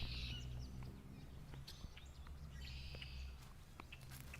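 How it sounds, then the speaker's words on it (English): Birds chirp faintly in the background of a quiet outdoor scene in a small fishing village, with short scattered high calls over low ambient rumble and handling noise. "Can you guys hear the birds in the background?"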